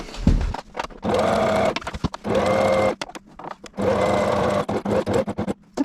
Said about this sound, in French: positionner vos tissus correctement l'un sur l'autre pour pouvoir continuer à coudre